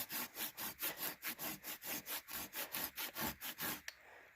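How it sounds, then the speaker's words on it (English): A Silky Outback folding saw cuts through resinous fatwood with about eighteen steady, rhythmic rasping strokes, close and fairly loud, ending abruptly. "my saw is too short to really get in here. I mean, you can see it's still cutting."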